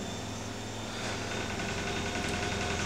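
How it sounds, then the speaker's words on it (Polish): A washing machine's steady low mechanical hum with a droning whir runs throughout, constant and unchanging like an appliance in the next room. "To co słyszycie, to pralka."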